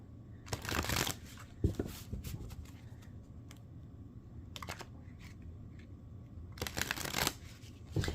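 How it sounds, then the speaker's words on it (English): Riffle shuffles of a deck of cards: quick papery bursts of flapping cards, one pair early and another near the end, fairly close and clear. "I'll give some good shuffles for you, pile 2."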